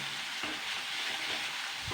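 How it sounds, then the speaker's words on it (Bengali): Whole cumin seeds and spices fry in hot oil with a continuous crackling sizzle, close and fairly loud, plus a few soft stirring knocks. "এটাকে আগে 2-3 মিনিট ভাজা করে দিতে হবে মশলাটা"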